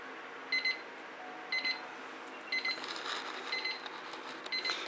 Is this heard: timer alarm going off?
yes